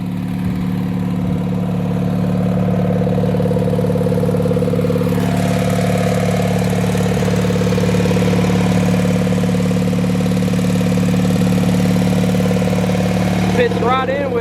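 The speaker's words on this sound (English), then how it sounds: "For a 40-something-year-old mower, that cuts grass pretty good." A vintage 1986 Murray lawn tractor runs while mowing grass, its engine a steady, loud, close drone with a faint shift midway and a short rattle near the end.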